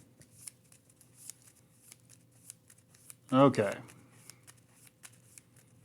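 Cards from a Marvel Champions deck being shuffled: one brisk riffle burst near the middle, up close, with a faint background hum, soft handling clicks and a brief spoken word.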